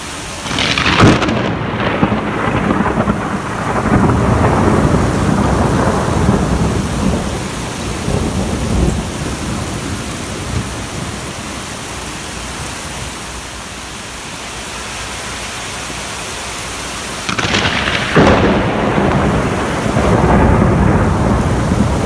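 Thunderstorm over Amiens with two very close lightning strikes: loud sharp cracks near the start and again around eighteen seconds, each followed by long rolling rumble over steady heavy rain.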